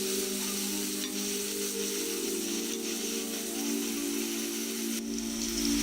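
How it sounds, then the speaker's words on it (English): Chopped onions fry in a pan for vegetable momos, giving a steady, close sizzle and crackle that runs evenly throughout, with faint stirring and no voices. "fry it for 2 to 3 minutes"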